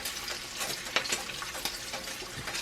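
Bacon frying in a cast iron pan with butter, a steady close crackle and hiss running throughout, with a few sharper pops standing out now and then.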